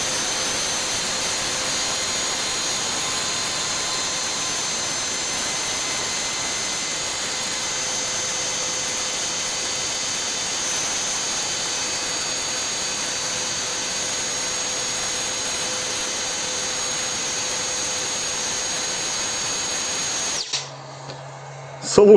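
A 40-amp cordless air blower, powered through a HEIMERDINGER LB242 mains power supply, roars steadily at close range for about twenty seconds with a high whine, then cuts off abruptly near the end.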